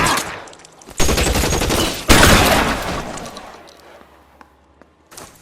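Gunfire in a shootout in the video game L.A. Noire, two loud sudden volleys of rapid shots that ring out and decay, followed by scattered fainter pops.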